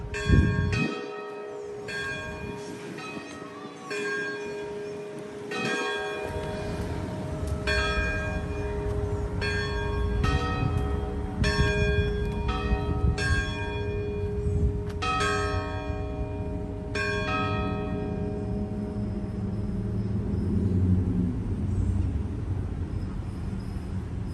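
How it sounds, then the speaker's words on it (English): Church bells ringing in a steady, overlapping peal across a town square in St. Augustine, Florida, with a low rumble of traffic underneath. "You can hear the church bells ringing."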